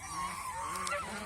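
Geese honk repeatedly at a goose farm, their nasal calls overlapping in a steady chorus over about a second with no voices present.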